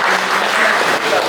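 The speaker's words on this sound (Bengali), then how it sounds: "হাততালি।" Brief, dense applause from a theatre festival audience, a steady burst of many hands clapping close by.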